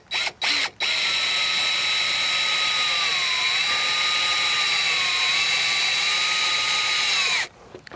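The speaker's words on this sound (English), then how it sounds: "I'll get one of these screws started into the cement board" A power drill drives a screw into cement board with one continuous whining motor run of about seven seconds, close and loud, its pitch sagging under load, preceded by two short trigger bursts.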